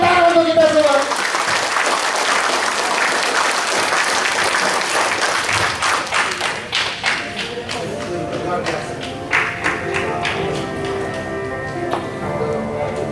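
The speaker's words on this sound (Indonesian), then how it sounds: "tepuk tangan untuk kita semua" Audience in a company motivational event hall bursts into applause, with dense clapping from the start, then the clapping thins into scattered claps, while a voice talks over it.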